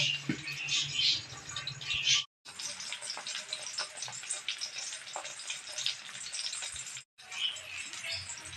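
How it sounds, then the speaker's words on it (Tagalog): Oil sizzles and crackles steadily in a covered pan of frying tinapa (smoked fish), a busy popping hiss that briefly cuts out twice. "Kapag nagpiprito po ako ng tinapa, tinatakpan ko po muna"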